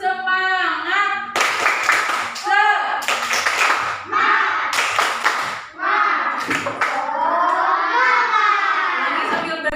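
Primary school class performing a rhythmic spirit clap routine, several sharp group clap bursts in a patterned sequence interleaved with children chanting and singing together, close and lively in a classroom.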